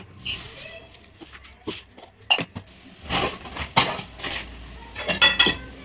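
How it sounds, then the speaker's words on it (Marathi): Utensils washed in a kitchen sink give off scattered clinks and clatters of metal dishes and cutlery, with bursts of scrubbing and rinsing, close and moderately loud. "बेसिनमध्ये जेवढे भांडे पडले होते तेवढे लगेच घासून घेतले"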